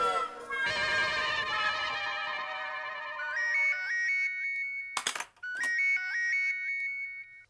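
A phone rings with a repeating electronic melodic ringtone, loud and close, in a sitcom home setting; the tune plays in looping phrases, briefly interrupted by a couple of sharp clicks before resuming.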